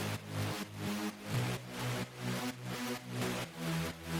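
Rave bass synth in an energetic electronic track, pulsing in steady loud stabs roughly every half second, with a wide, gritty tone spread across the range and shifting low notes, no talking.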